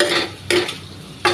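A spoon scrapes and stirs sabudana khichdi with potatoes in a pot, giving two or three loud, close strokes with short pauses between them.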